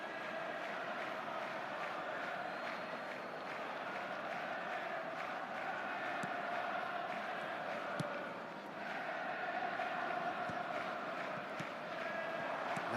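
Stadium crowd in the eFootball football video game, a steady, distant wash of roaring and chanting that swells and dips slightly over thirteen seconds, with no one talking.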